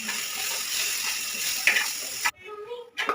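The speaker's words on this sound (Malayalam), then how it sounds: "ദോശക്കല്ലിനകത്തെടുത്ത് നല്ലപോലെ ഇളക്കിയിട്ട് ബ്രൗൺ കളറൊക്കെ ആവുന്ന സമയത്ത്" Onion and cabbage stirred and frying on a dosa griddle, a steady close sizzle with scraping stir strokes that cuts off briefly before resuming.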